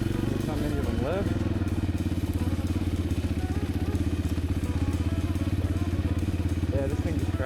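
A Honda XR250L motorcycle riding in second gear on light throttle, a steady, close, thumping single-cylinder engine pulse that stays even throughout.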